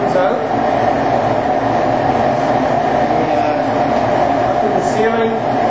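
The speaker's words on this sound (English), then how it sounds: "there's a 5 horsepower spark-free fan that pulls the fumes out" A 5 horsepower spark-free exhaust fan pulls fumes out of a spray booth, making a loud, steady broadband roar that runs throughout without a break.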